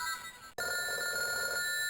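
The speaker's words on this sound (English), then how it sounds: "Ringing of the phone." A telephone rings in the survival-horror game Silent Hill Play Novel, a steady electronic ring that starts abruptly after a brief quiet pause and continues loudly without interruption.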